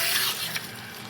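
Tepid water from a tap runs steadily over hair at the nape of the neck during a rinse, a close, continuous hissing splash.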